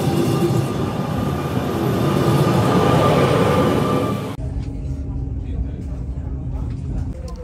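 Loud rumbling interior noise of a moving train in the Cinque Terre, Italy, with steady mechanical roar that drops sharply partway through to a quieter hum with faint voices, near Monterosso.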